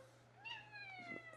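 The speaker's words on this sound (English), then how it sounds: "Fed my cat, who just said meow." A pet cat gives a single faint meow indoors, a short rising then falling call heard alone over a quiet room hum.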